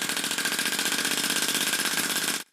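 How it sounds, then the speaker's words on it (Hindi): A homemade air-powered engine runs at a fast, steady rhythmic chugging, loud and close, before cutting off abruptly near the end. "इंजन अभी भी चल रहा है"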